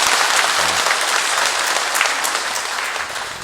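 Steady applause from a church congregation at Sinjeju Catholic Church in Jeju, welcoming visiting tourists during Sunday Mass. The clapping is dense and even and fills the space throughout, with no speech over it.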